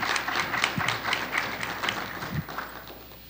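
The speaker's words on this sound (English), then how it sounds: "Please give her a round of applause." An audience at a faculty panel forum gives a round of applause: a fairly close, brisk wash of many hands clapping that gradually thins and softens toward the end.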